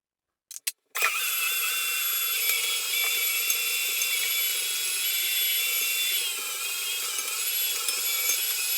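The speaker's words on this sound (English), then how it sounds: "We're going to put that in the grinder." An electric meat grinder grinds pork and bacon tips and ends. A couple of sharp clicks come first, then a loud, steady motor whir and grinding noise runs without a break for the rest of the clip.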